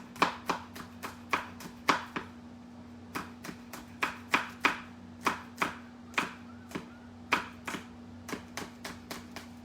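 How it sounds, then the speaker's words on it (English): A knife chops green chilies on a board in a steady run of sharp, close taps, about two per second, with a low steady hum underneath. "now let me chop"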